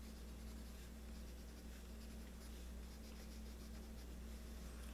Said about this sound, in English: the sound that is being made as the pencil contacts the paper.